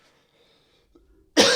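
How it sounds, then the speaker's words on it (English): A single loud, harsh cough bursts out near the end, close and abrupt, after a stretch of near silence with faint background murmur; likely a lingering illness-type cough during a podcast recording. "get that COVID cough out of that"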